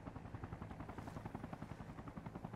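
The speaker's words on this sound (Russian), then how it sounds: "Вертушка села." Helicopter in the military video game Arma Reforger, a steady rhythmic rotor thump with a fast even beat, fairly close and alone.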